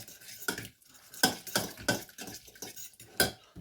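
Bacon sprinkled with sugar being stirred in a pan, a run of distinct metal utensil scrapes and clinks against the cookware in an uneven rhythm over a faint sizzle, close and fairly quiet, no talking.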